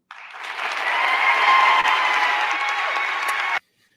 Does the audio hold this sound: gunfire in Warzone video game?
no